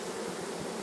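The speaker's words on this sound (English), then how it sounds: "you can see the large number of bees that are also flying in on the landing board and crawling into the hive" A close, steady buzzing hum of many honeybees flying onto a hive's landing board and crawling inside, continuous and even for a brief moment.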